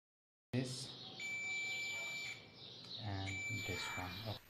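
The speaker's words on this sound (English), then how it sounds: "When you hear a beep sound, it means that these wires are internally connected." Steady high-pitched electronic beeps from a multimeter continuity tester checking stepper motor wires sound in two long tones, with a person talking over them.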